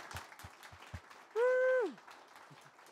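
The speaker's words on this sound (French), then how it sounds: "est-ce qu'on peut les applaudir un coup?" Audience at a church gathering clapping, a faint scatter of applause heard distantly, with a voice briefly calling out over it.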